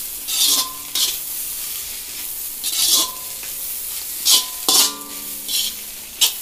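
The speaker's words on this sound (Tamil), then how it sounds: "கொஞ்சம் வெந்தோடனே இது மாதிரி இப்படி கிண்டி விட்டுக்குங்க" Egg for chicken fried rice frying in a pan, with a spatula stirring and scraping in short repeated bursts over a soft sizzle, close and clear, with no voices.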